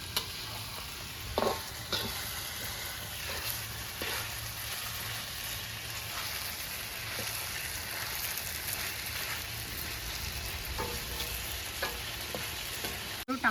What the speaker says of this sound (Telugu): మధ్య మధ్యలో కలుపుకుంటా కనీసం ఒక టెన్ మినిట్స్ ఫ్రై చేసుకోవాలి